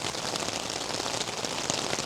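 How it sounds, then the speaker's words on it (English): Steady rain pattering on a tarp, a dense, even hiss of drops close by with no break, fairly quiet overall. "Now it's been raining for..."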